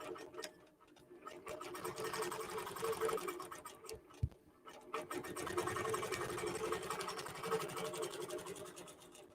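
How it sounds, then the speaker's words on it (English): A QBOT quilting robot works over a quilt, its stitching mechanism ticking in a fast even rhythm with one brief pause, moderately close. "So I press go, and QBOT will automatically take a tie-off stitch and then quilt this design out."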